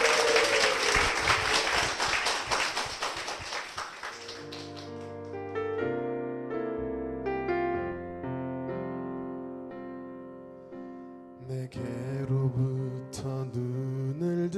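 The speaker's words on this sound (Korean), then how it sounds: "두 분께 다시 한번 힘찬 축복의 박수 부탁드리겠습니다" An audience in a church TV broadcast claps loudly as a dense wash for about four seconds. Sustained music with singing takes over as the clapping fades.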